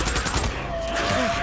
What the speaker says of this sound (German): Ich baller einfach auf alles, was hier hochschimmelt.